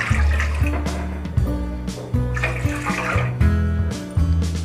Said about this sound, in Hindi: स्टीमर में मैं डाल दूंगी 2 कप पानी